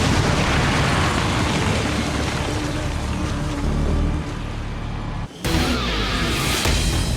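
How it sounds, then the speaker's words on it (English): Explosive charges detonate in the XCOM 2 video game: a continuous heavy rumbling blast that fills the whole clip, then a short dropout and a second loud burst, with no talking. "Detonating charges."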